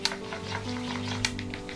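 A utensil stirs and scrapes through thick chocolate cake batter in a bowl, soft rhythmic swishing with a couple of light clinks.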